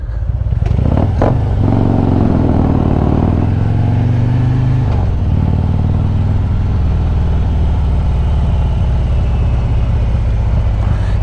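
A 2020 Harley-Davidson Road Glide Special with new Recluse clutch plates rumbles loudly and steadily while being ridden, its engine note dipping and surging through gear shifts, with a clunk near the start.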